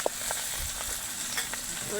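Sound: curry leaves and coriander frying in oil

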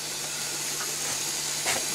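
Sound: hot brine poured over boiled russula mushrooms hissing

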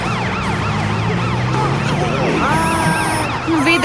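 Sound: ambulance siren in a cartoon

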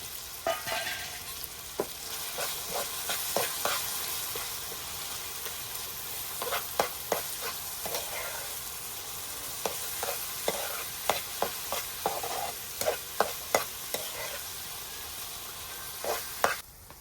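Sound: green masala paste cooking with tomatoes on a wood-fired stove

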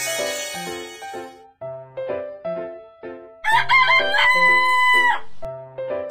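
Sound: rooster crowing

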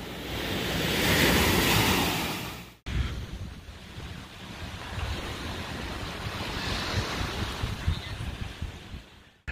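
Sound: ocean waves washing onto the beach

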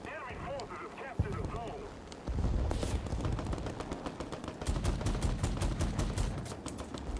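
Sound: tank gunfire in a video game

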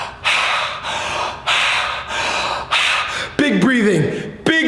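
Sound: deep breathing exercise

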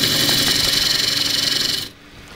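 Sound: gouge slicing wood on a bowl-turning lathe

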